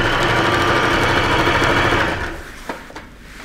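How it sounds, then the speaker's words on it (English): A sewing machine stitches a bucket coat in a fast, steady mechanical whir that runs loudly for about two seconds before slowing and stopping, leaving a couple of faint clicks. "So, so I'm sewing close to that black."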